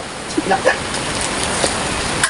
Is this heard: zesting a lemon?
no